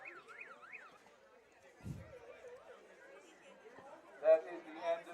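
A warbling, siren-like end-of-quarter horn sounds at a high school football game, rising and falling for about a second over crowd chatter, with voices continuing afterward.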